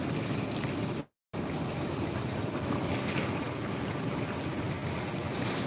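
Steady wind and river waves rush loudly and continuously beside a Barisal river near a launch terminal, with a deep rumble of large passing ships beneath and one brief dropout.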